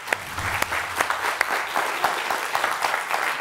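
A studio audience at a televised comedy game show claps, a brisk burst of crisp applause with sharp individual claps standing out, close and fairly loud.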